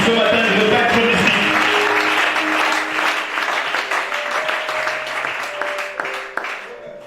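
A church congregation applauds together, loud sustained clapping that fills the room and gradually thins out, with voices and a sustained musical tone beneath it.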